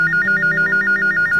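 A telephone rings close by with a rapid, warbling trill repeating in quick pulses, no one speaking.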